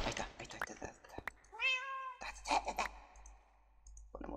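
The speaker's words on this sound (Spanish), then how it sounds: "Escucho cosas que no. Ah, es el gato." A cat meows once, clearly and with a rising then falling pitch, in the Minecraft video game, amid clicks and faint game sounds.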